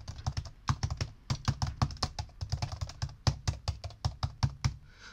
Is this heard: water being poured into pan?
no